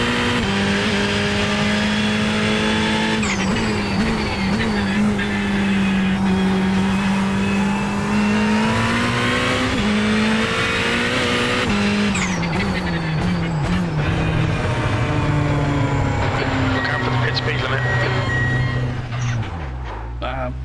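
A high-revving Ferrari race car engine in the iRacing video game roars continuously, shifting pitch as it accelerates and changes gears, loud and close throughout.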